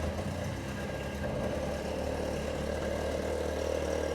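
A motorcycle engine with fuel injection (EFI) idles after starting, giving a steady, heavy, even drone close by with no revving.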